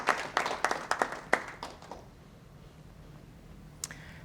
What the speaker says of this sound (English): So maybe a huge round of applause for our social committee